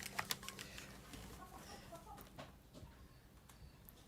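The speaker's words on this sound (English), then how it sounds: "a bunch of chickens walked in the house right then" A bunch of chickens wander inside a house, clucking and squawking in scattered bursts, fairly faint against a busy, rustling room background.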